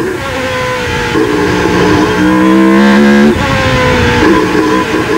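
A loud Formula 3000 race car engine with a manual gearbox screams at high revs at the Hungaroring, pitch climbing through a gear and then dropping as it shifts, continuous and close.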